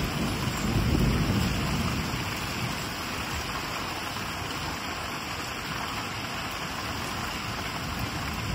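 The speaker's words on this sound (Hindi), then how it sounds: "पानी रो शब्द केते" Heavy rain pours steadily in Ashok Nagar, Ranchi, in late February, with low thunder rolling beneath it early on and some wind buffeting the microphone. The hiss is constant and close, and no one speaks.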